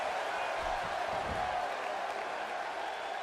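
A wrestling arena crowd in the WWE 2K16 video game roars and applauds in a dense, steady wash of cheering that fills the whole stretch, loud and continuous, with a faint voice underneath.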